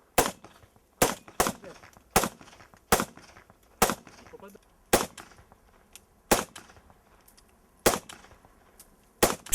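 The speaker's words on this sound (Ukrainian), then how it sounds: "Випробувати свої сили та навики зі стрільби вирішила і наша знімальна група" Assault rifle single shots crack at an outdoor shooting range, a dozen sharp loud reports spaced about a second apart, each followed by a short echo.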